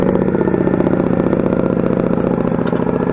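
A motorcycle engine idling during rider training, loud and close, with an even, rapid, slightly clattery throb that holds steady throughout and no voices over it.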